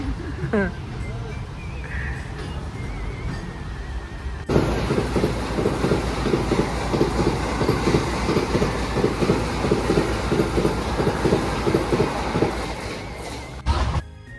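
The Howrah Barmer Express (12323) rumbles along with a steady rhythmic clatter of wheels on rails, loud and close, after a quieter opening; voices are heard over it.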